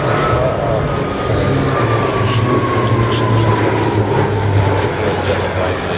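An Italian Air Force Alenia C-27 military transport flies a display manoeuvre at the 2010 Kecskemét air show, with a loud, continuous engine drone and a steady tone. A commentator talks over it on the public address.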